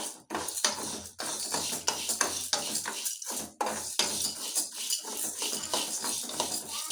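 Moong dal roasts in a pan on a low flame while a utensil stirs it, making busy, repeated scraping and clattering against the metal, close and continuous.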